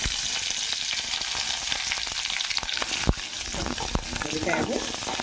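Ten green chilies fry in half a spoon of hot oil in a pan, making a loud, dense crackling sizzle with a few sharp pops and stirring knocks.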